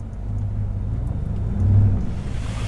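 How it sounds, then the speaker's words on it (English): A pickup truck engine rumbles low and close while reversing up onto a street curb, swelling briefly as it pushes over the edge and then settling back. "We are about to back up on top of this curb right now though,"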